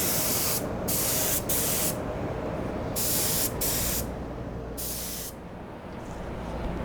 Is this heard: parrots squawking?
no